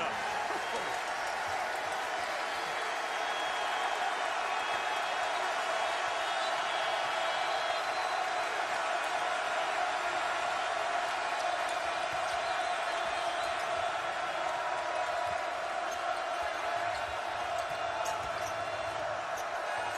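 A college basketball crowd at an Ohio State vs. Maryland game roars in a dense, steady wall of cheering and applause that holds at an even level throughout, with no distinct single voices rising above it.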